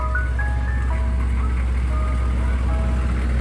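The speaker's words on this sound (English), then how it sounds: "Did you hear about the Mr. Softy trucks being tracked by GPS?" A Mr. Softy ice cream truck plays its steady chiming jingle on a street between Coney Island and Bay Ridge in New York City, over a constant low engine hum, fairly close and continuous.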